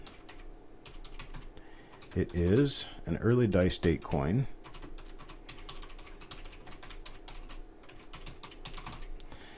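Steady computer keyboard typing while editing text, light rapid clicks running throughout, briefly under someone speaking in the middle.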